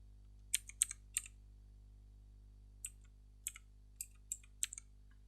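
Keys tapped on a computer keyboard while a date is entered, quiet separate clicks in short bursts with pauses between, close and alone over a faint electrical hum.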